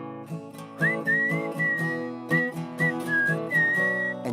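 A person whistles a bright, wandering melody in clear sustained phrases over steady strummed guitar chords, the whistle riding high above the chords with short pauses between lines.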